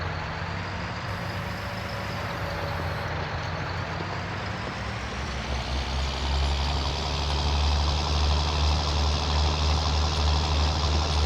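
A tractor engine idles in Farming Simulator 19, a steady, loud, low diesel rumble that holds throughout and swells slightly in the second half, with no talking.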